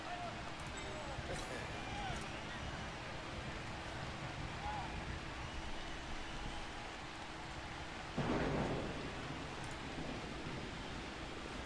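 Rain and thunder in the Blood Bowl 2 fantasy football video game: a steady, dense hiss of rainfall runs throughout, with a sudden louder burst of noise, like a thunderclap, about two-thirds of the way in.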